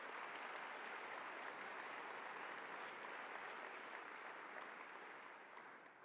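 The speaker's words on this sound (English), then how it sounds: "Let's give them a big round of applause" A large convocation crowd at Cal Poly applauds steadily for introduced guests, a dense, even wash of clapping that holds for several seconds before tapering slightly at the end.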